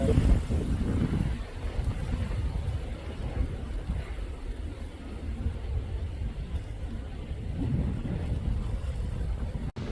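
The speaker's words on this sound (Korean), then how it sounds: "바람이 아주 심하게 불고 있습니다" Strong wind blows hard across the microphone in an outdoor countryside setting, a continuous heavy low rumble and buffeting gust noise that fills the whole stretch, loud and unbroken.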